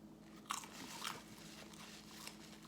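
Someone bites into a Greek gyro sandwich loaded with fresh tomatoes, cucumber and peppers, giving a sharp close crunch followed by softer chewing and a few quieter crunches in an otherwise quiet room.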